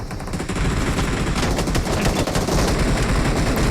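Dense rapid gunfire from a Free Fire-style mobile shooting game plays loud and continuous, with overlapping bursts of automatic weapon shots.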